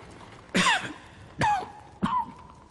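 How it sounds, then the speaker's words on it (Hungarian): Three separate raspy coughs spaced about a second apart, close and moderately loud, over a quiet background. "Amint hallhatod, nagyon köhögök de tartom magam."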